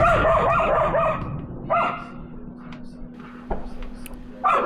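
A dog barks a few scattered times at a distance in the Minnesota winter, with a faint steady hum and quiet background noise between barks.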